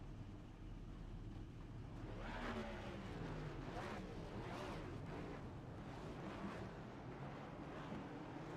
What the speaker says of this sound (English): Gonna wait for our iRacing safety car to roll themselves out